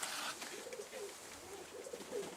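Pigeons coo softly in a loft with newly laid eggs, a series of low rolling coos repeating at a moderate distance, faint and without speech.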